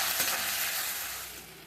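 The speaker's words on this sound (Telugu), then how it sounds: "ఉల్లిపాయలు కొన్ని బాగా వేగిపోయి దానిలో వెల్లుల్లి పేస్ట్ వేసుకోవాలి" Chopped onions and garlic paste fry in a pan for a palak matar curry, giving a steady, close broadband sizzle with a faint stir or clink near the start, fading slightly toward the end.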